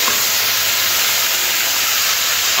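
Loud, steady hiss of onion paste frying in hot oil, a continuous sizzle with no voices.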